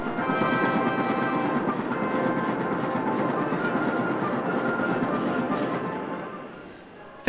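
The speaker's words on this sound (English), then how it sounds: "This tape recorder works on 7 tracks at the same time." A tape recorder copies punched census cards for the 1961 census, writing seven tracks at once at four cards per second. It makes a steady, loud, dense mechanical clatter that runs continuously and fades slightly near the end.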